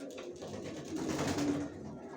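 A pair of white racing pigeon chicks gives a soft, brief coo, close and faint, with no talk.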